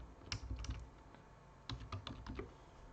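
Keystrokes on a computer keyboard come in two quick, irregular bursts of close, crisp clicks separated by a brief pause.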